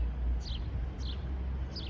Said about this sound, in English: listen to the birds chirp